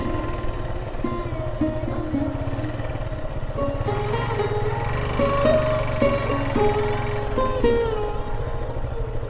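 A motorcycle rides off-road near the Jamuna river, its engine holding a steady, close, droning rumble with a slight rise and fall in pitch throughout.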